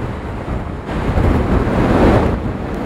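Waves and wind on the open Pacific Ocean during a boat passage in Patagonia, a continuous broad wash of surf and wind buffeting that swells louder midway, with no talking.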